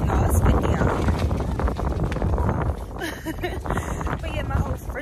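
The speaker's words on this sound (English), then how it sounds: "it's windy out here" Wind blows outdoors in a loud, continuous rush that buffets the microphone throughout, easing slightly midway, with someone talking over it.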